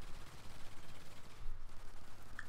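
Sentry guns firing nonstop in the Call of Duty Extinction video game, a dense, rumbling stream of rapid gunfire that rolls continuously without a pause.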